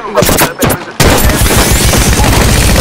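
Bursts of automatic gunfire in an Apex Legends firefight, a brief choppy opening followed by dense rapid shots sustained loudly to the end.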